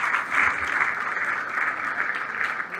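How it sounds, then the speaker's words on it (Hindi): Loud applause from an audience at a business recognition event in Noida, dense steady clapping sustained for a few seconds before tapering slightly at the end. "एक बार जोरदार तालियां विनोद जी के लिए,"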